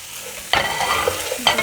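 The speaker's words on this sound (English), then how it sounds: "we're going to throw in our chicken." Chicken hits golden toasted soup shells in a hot pan, giving a short sizzle and scraping stir strokes, two quick bursts up close.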